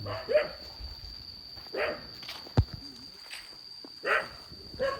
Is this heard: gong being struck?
no